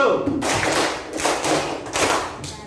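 A classroom group claps together in short bursts on a teacher's counted cues of one, two and three, several rounds spaced apart in rhythm, with voices mixed in.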